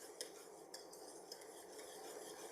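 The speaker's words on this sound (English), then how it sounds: "all you have to do is wait it out, stir, continuously stir" Lemon curd being stirred steadily in a pot on the stove, with a spoon making soft scraping swishes and a few light clinks against the pot. The sound is quiet and close, and no one speaks.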